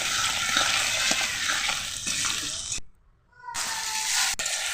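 Chopped tomatoes with salt frying in hot oil give a steady, loud sizzle with faint scraping clicks of a spatula, cut off by a brief near-silent gap before the frying resumes.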